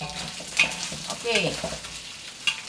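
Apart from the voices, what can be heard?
stir-frying roast pork for longevity noodles in a wok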